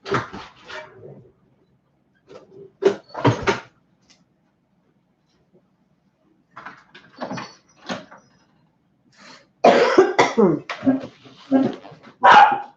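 Several dogs bark in short bursts indoors, joined by door sounds, while a person speaks to them between the barks.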